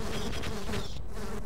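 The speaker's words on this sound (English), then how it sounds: "A nest of bees." Buzzing bees from a nest in the video game Half-Life: a steady insect drone with wavering pitch, continuous and close, heard alone.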